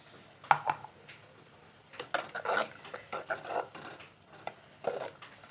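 Ground coconut paste goes into a pot of Onam-style pumpkin pulissery curry, with a spoon scraping and clinking against metal vessels in a series of light, close taps spread over several seconds.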